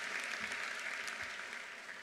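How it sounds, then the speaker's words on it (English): An audience at a medical school white coat ceremony applauds in a steady, dense wash of clapping that holds for a couple of seconds and begins to taper. "How about a round of applause for that?"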